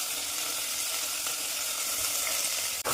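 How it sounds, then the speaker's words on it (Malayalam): Onions and shallots sauté in hot oil for chicken curry, making a loud, dense, continuous sizzle up close that cuts off sharply for a moment at the very end. "സവാള കൊച്ചുള്ളി ഇടുക. വഴറ്റിയെടുക്കുക."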